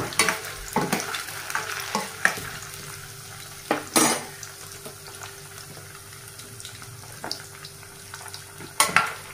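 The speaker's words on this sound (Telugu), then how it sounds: "చూడండి, ఇలా ఫ్రై చేసుకోవాలి లైట్గా." Paneer pieces fry lightly in an oiled pan, a close sizzle broken by sharp scrapes and clatters as they are stirred and turned, louder bursts near the start and end, with no one talking.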